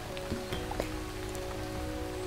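Steady rain falling in the video game Starbound, an even, fairly faint hiss with scattered drop-like ticks and a low hum beneath, with no talk.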